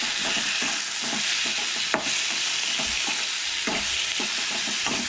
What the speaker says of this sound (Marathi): सो हे सगळें बरें मिक्स करून बरें भाजून घेवया